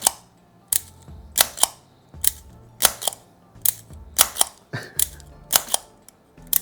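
Minolta 16 subminiature camera being opened, fired and reloaded: a steady series of sharp, close mechanical clicks and snaps, each shutter release followed by a brief metallic sliding of the reloading action, repeated about a dozen times.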